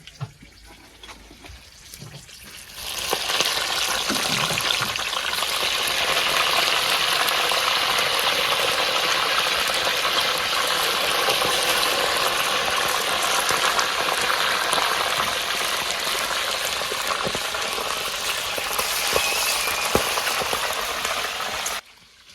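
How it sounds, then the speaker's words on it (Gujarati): Chillies frying in hot oil for methi bhajiya in a village kitchen, starting with a quiet moment and then a loud, dense, steady hiss and crackle that carries on without a break. "હવે આપણે મરચા તળી દઈશું"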